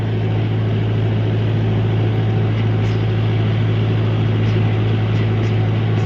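A tractor pulling a disc plough through a field drones with a steady, loud low engine hum, continuous and unbroken throughout, with no voices over it.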